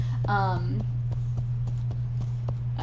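Horse in a video game being petted: a short whinny-like vocal near the start, then steady clip-clop hoof steps over a constant low hum, with a person talking throughout.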